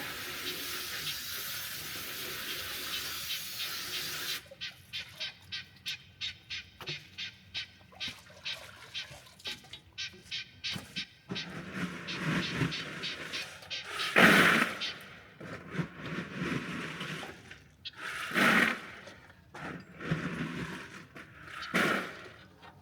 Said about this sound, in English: after the scalder, you dip them in the cold water to stop that hot process, and then they go straight into the plucker.